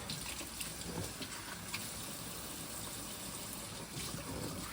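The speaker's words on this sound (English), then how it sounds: "I'm gonna rinse the soap off of the razor." Running water rinses soap off a straight razor, a steady soft stream close by and fairly quiet, with no talking.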